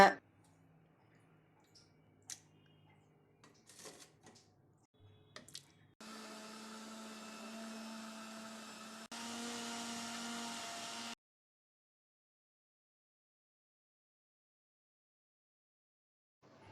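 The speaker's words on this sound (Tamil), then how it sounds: "தக்காளி ஆறின பிறகு மிக்ஸி ஜார்ல போட்டு நல்லா 3 நிமிஷம் அரைச்சி எடுத்துக்குங்க." After a few clicks and handling noises, a mixer grinder blending tomatoes whirs steadily for about five seconds, shifts pitch once, then stops abruptly.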